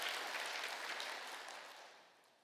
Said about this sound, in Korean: 우리 두 분과 졸업하신 분들에게 감사로 격려로 박수하는 시간을 우리가 갖도록 하겠습니다.